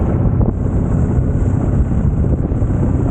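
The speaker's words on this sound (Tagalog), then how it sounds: "Ang lakas ng hangin dito." Strong wind on a mountain buffets the microphone in a steady, loud low roar that never lets up, with no voices over it.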